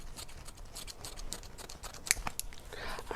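Scissors snip through paper during a faux watercolor art project, a few soft close cuts with a sharper crisp snip near the middle, quiet and unaccompanied by speech.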